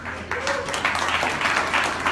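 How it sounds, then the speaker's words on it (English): A crowd clapping and applauding, a dense continuous patter of many hands that holds steady throughout, moderately loud, with faint speech underneath. "And all the Indians are clapping."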